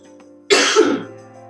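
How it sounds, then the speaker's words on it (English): A single short, harsh cough close up, followed by a brief rasp as it fades out. "So as we squeeze it out, the chest says, ooh, get this out, a little cough."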